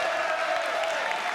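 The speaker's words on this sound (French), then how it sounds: "On peut applaudir Monsieur Laverne." A television studio audience applauds Monsieur Laverne: a brief, dense, steady wash of clapping with a faint held tone underneath, no pauses or peaks.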